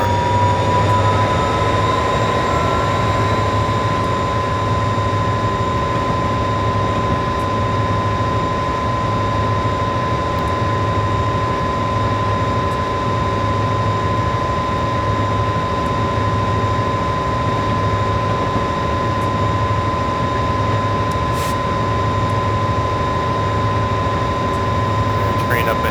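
A heavy diesel freight locomotive in Train Simulator 2013 throttles up on a 1.5% incline, its engine a steady, loud, droning rumble with a throbbing low pulse and a sustained whine throughout, without talk.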